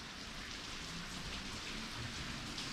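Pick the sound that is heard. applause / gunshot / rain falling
rain falling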